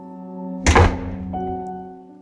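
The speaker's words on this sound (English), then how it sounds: "The first bedroom's door slams shut." A bedroom door slams shut in a house, one sharp heavy thud that rings briefly into the room, with a steady electrical hum carrying on before and after it.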